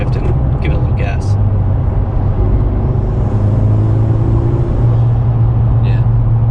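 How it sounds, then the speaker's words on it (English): A 2020 Honda Civic Si with a PRL Cobra cold air intake downshifts and accelerates, a steady loud engine drone inside the cabin rising in pitch, with brief talk near the start. "I'm gonna downshift and give it a little gas."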